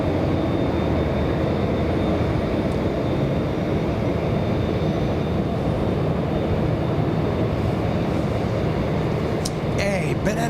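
Japan Airlines airliner departing from the north side at Los Angeles International Airport, a loud continuous jet roar that stays steady throughout with no clear talking.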